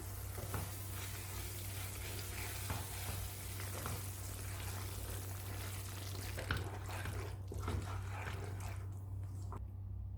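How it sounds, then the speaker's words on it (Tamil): Banana flower thokku simmering in oil in a pan on the stove over medium heat, giving a steady close sizzle and bubbling with occasional soft stirring clicks, fading near the end. "மிதமான தீயில் மூணுலேருந்து நாலு நிமிஷம் கொதிக்க விடலாம் இடையில் அப்பப்போ கிளறி விடணும்"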